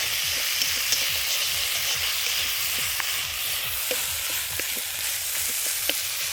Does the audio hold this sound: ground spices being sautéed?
yes